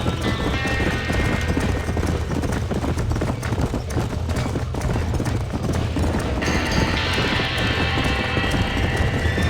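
In the video game Red Dead Redemption, many hooves clip-clopping in a rapid, continuous rumble as horses flee a burning barn, with a horse whinnying and a loud, busy background of commotion.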